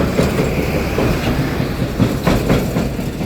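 An empty tractor-trailer truck rattles loudly through a busy intersection at Map Pong, Phan Thong, Chonburi, its light load producing a continuous clattering, banging roar close by with repeated metallic knocks.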